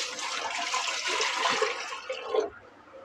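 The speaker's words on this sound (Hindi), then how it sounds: "देखिए इस कप के हिसाब से मैंने 5 कप पानी डाल रही हूँ।" Five cups of water poured steadily into a cooking pot for a dhaba-style dal palak of lentils and spinach, a close, continuous splashing rush lasting a few seconds before cutting off.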